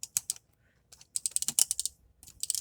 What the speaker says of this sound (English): He has a softly ratcheted swivel right there